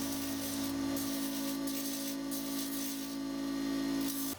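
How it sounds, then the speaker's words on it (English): A pneumatic drum sander works small wooden intarsia sign pieces with 80-grit paper, making a steady, continuous rubbing rasp over a constant motor hum that stays level and close throughout. "Then I used the pneumatic drum sander on each piece with 80 grit."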